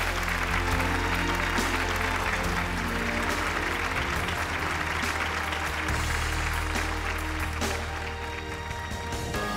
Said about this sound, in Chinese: 掌声欢迎江超